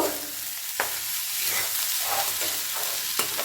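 Cauliflower being stir-fried with ground spices and black pepper in a pan, a steady close sizzle broken by several sharp scrapes of the spatula against the pan.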